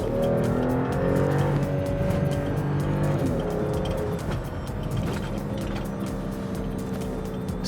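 A 2016 BMW X5 SUV pulls away with its engine rising in pitch under acceleration, loud and steady from inside the cabin, settling into a constant road drone.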